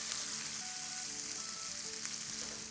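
Onions sauté in a pan with a soft, even sizzle and faint crackles, fairly quiet, under light tonal background music.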